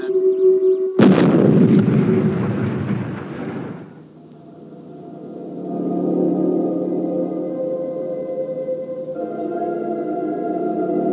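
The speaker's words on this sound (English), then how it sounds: "Fire main retros, Robert. Fire main" Spaceship main retro rockets firing in a retro science-fiction puppet series, a sudden loud blast followed by a roaring, rumbling burst that fades into a steady mechanical hum with tonal drones.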